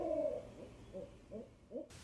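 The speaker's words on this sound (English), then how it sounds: "the only noises that can be heard are the calls of owls" An owl hoots in autumn woods in Pennsylvania, a series of soft, rhythmic hoots roughly every half second, faint and distant against quiet background.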